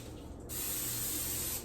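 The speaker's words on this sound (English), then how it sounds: "You're gonna get about 10 calories per second as you spray this thing" A cooking oil spray can lets out a steady, close hiss that starts abruptly and runs for over a second, with no talking.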